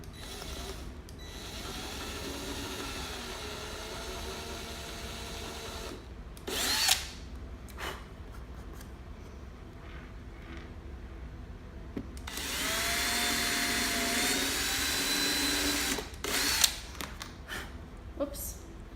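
A power drill whirs in several bursts into wood, a short one early and a longer sustained run later, with clicks and handling noises between; the drill bit is loose in the chuck.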